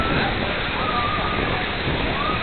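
Water rushes through a rubber dam in Khagrachari, Bangladesh, a loud, steady, close broadband roar of flowing and splashing water with no pauses.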